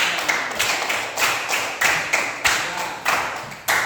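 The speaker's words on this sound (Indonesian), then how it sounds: "Ya, tepuk tangan." A small group claps in a classroom during a lesson on fantasy stories, producing a sparse series of about seven distinct bursts at a loose, regular rhythm, fairly close and moderately loud.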